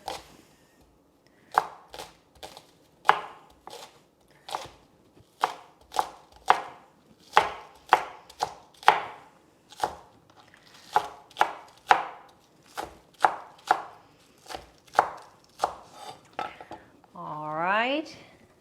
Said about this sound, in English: I love scallions or green onions. And you do 2, chop them together.